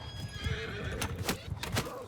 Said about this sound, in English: here come their horse archers